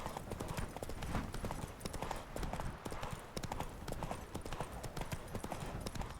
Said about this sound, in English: time to get the horse out.